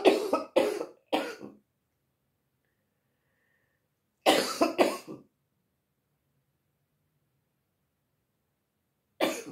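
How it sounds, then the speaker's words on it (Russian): A woman coughs in a few harsh clusters separated by silence: a quick triple cough, then a double, then one more at the end. "опять закашлялась"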